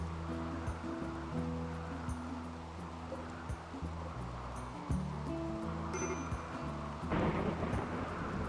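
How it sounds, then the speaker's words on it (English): Rain and thunderstorm ambience in the video game RimWorld, a steady wash of rainfall with low rumbling and scattered clicks, building into a louder burst near the end, accompanied by a background tonal music bed. "Right now we just have rain with thunderstorms, nothing bad."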